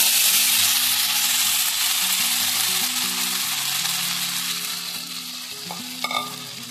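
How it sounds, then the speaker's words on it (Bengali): Sago pearls fry in hot oil in a pan, giving a loud, steady, close sizzle that runs throughout, with a brief metallic clink near the end. "এটাকে হালকা আমরা ব্রাউন করে ভাজবো"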